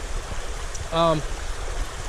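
McMichael Creek in Pennsylvania, a wild trout stream, flows with a steady, broadband rush of water up close, and a brief faint tonal sound rises over the flow partway through.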